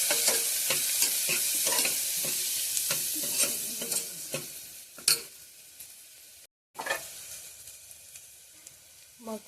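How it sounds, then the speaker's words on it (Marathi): Onion frying in a pan with masala, turmeric and salt, stirred with a steady sizzle and repeated scraping strokes throughout, with a brief gap near the end before the frying resumes. "त्याच्यानंतर जराशी हळद आणि मीठ घालून हे सगळं मिक्स करून घ्यायचा."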